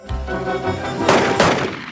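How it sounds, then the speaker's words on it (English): Loud bursts of gunfire from a Simpsons cartoon scene cut through a busy musical score, with sharp repeated shots landing over the music. "the score is cut off by gunshots"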